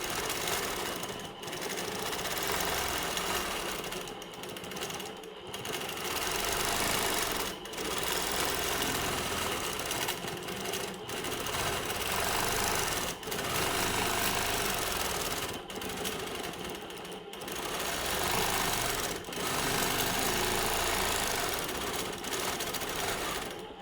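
A domestic sewing machine stitches free-motion quilting of a feathered wreath, running in fast continuous bursts with brief pauses between them, close and steady throughout.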